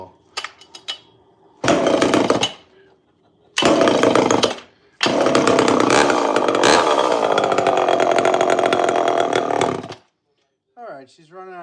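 A chainsaw engine running unevenly as it runs low on fuel, sputtering in short bursts that cut out, then holding a longer loud run before dying.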